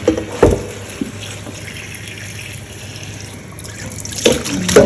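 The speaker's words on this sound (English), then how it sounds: "Cold water." Cold water runs from a kitchen tap during callaloo preparation, a steady, close hiss of flowing water with brief splashy bursts at the start and end, no voices.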